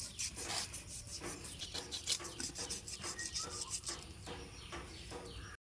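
Cutting and skinning a snakehead fish produces a series of soft, rhythmic scraping and rubbing strokes, close and quiet, repeating roughly every half second.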